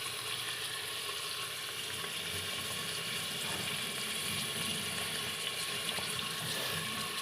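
Curry leaves and other ingredients fry in a pan with a steady, close, dense sizzle that holds at an even level throughout, with no talking.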